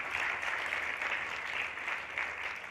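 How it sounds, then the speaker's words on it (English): Conference audience at a tech keynote on IoT and AI applauding, a steady wash of clapping that stays fairly even and moderately distant for nearly three seconds with no voices over it. "you can clap"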